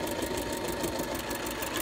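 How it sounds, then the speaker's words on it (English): A sewing machine stitching around the edge of a simple fabric baby bib, with a continuous close whirring hum that holds steady throughout. "now I'm going to take it to my sewing machine and sew around the perimeter"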